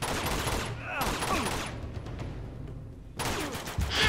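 Rapid bursts of gunfire in the Uncharted 2 video game, dense volleys that fade and then return, with a voice talking over the shooting.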